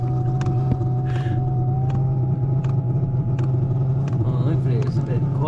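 A diesel heater runs in a Land Rover Defender 110, giving a steady low droning hum and a faint rising whine, with sharp clicks and ticks scattered over the constant rumble.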